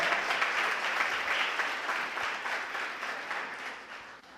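A church congregation applauds during a worship service, a steady wall of clapping that gradually fades away over a few seconds.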